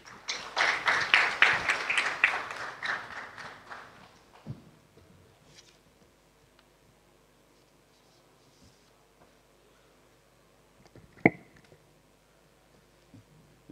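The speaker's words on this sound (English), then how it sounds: "Can we have a huge round of applause for him, please?" A conference audience claps briefly for about four seconds, a fairly close burst that quickly fades into a quiet room with a few faint clicks and knocks.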